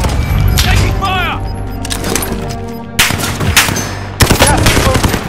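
Rapid gunfire in a video game shootout: loud close bursts of automatic shots and sharp cracks come in clusters, with game voice callouts and talk over the firing.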